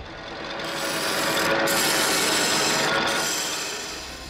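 Fruit-tree wood is machined in its first rough stage with sawdust flying, a loud, continuous grinding rasp that swells and holds steady for several seconds before easing slightly.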